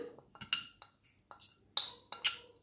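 Spices with salt, chili, cumin and turmeric are stirred into water in a bowl with a spoon, giving a few close, bright metallic clinks and taps spaced irregularly over a quiet background.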